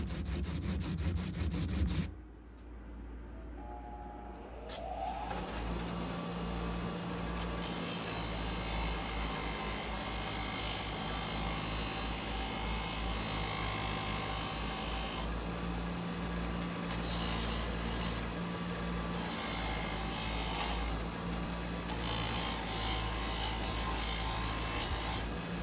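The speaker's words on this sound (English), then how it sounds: "I think I'm going to try to finish the rest of it out with sandpaper" Continuous close hand sanding of a brass piece with sandpaper, a steady broadband rasping scrape that runs on for most of the stretch after a short quiet break near the start, with no talking.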